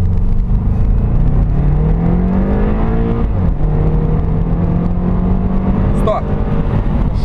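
A 2002 Subaru Legacy BH5 with the EJ206 engine accelerates hard from 0 to 100 km/h, its engine note climbing steadily through the gears with a brief dip at a shift, loud and continuous from inside the cabin.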